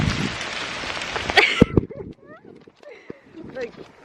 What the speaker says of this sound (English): It's actually pouring down.